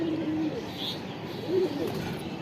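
A Jet Spring pigeon coos softly, with two low rolling coo phrases over a steady background hum, close by and without talk.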